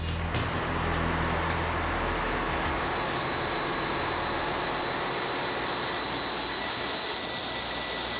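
A large 30,000-horsepower ship engine on a test run gives a loud, steady roar that builds into a sustained, heavy mechanical drone with a broad rumbling hiss, continuous throughout with no voices.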